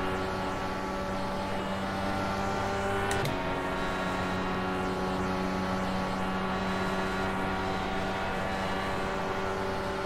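A steady, high-pitched engine drone from a DW12 race car in the iRacing video game at Watkins Glen holds at constant revs with a faint tonal whine, one brief shift partway through, no speech.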